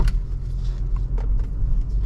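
A 2010 BMW 330i straight six pulls under acceleration on the road, a steady low engine rumble with tire and road noise, close and continuous from inside the car.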